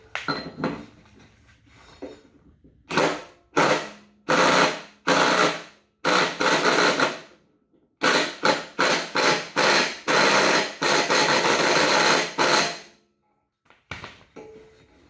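A ratchet tightens the deck spindle blade on a Craftsman lawn tractor in quick repeated clicking strokes, loud and close, coming in bursts with brief pauses between them.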